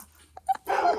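A dog gives short whimpers and a yelping bark, close by, followed by a louder rough bark burst, in a quiet setting.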